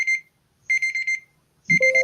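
Timer alarm on a live stream sounds in two short bursts of rapid high electronic beeping separated by silence, then a third burst begins with a lower tone joining near the end.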